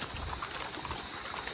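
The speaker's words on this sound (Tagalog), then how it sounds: "umuulan ngayon" Steady rain falling outdoors during a cold downpour, a dense continuous hiss with no distinct drops standing out, fairly even and close throughout with no voices.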